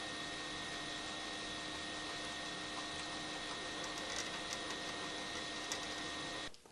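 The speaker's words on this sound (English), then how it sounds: "The CNC router does a pretty quick job of putting the holes in the right place" A CNC router fitted with a tapping head drills and taps holes in parts, giving a steady, even mechanical whir with faint ticks that runs unbroken and then cuts off abruptly at the end.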